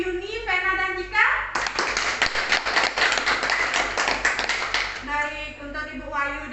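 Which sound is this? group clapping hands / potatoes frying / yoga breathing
group clapping hands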